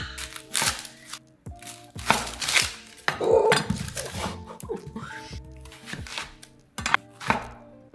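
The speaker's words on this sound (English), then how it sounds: "So we're gonna just slice this pretty thin." Knife slicing a red onion thinly on a cutting board, a run of close, sharp chopping taps spaced irregularly over a steady kitchen background, with brief talk in places.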